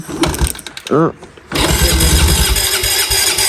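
A motorbike engine on a cold morning near the Nepal–China border: a voice and short cranking bursts, then the engine catches and settles into a loud, steady, close idle.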